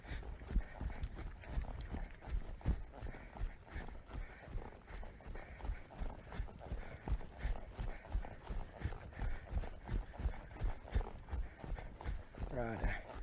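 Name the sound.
horse hooves walking during groundwork training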